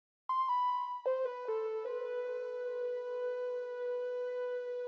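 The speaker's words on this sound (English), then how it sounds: "I actually use this synth bass as like a lead melody" A synth bass patch from Analog Lab carries a lead melody, its clear, harmonically rich tone stepping through a few sustained notes, moving from a higher pitch to a lower held one, loud and alone.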